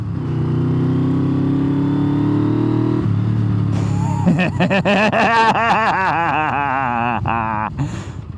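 Motorcycle on a test ride, its engine droning steadily before rising through loud revving bursts that climb and fall in pitch, close and continuous throughout.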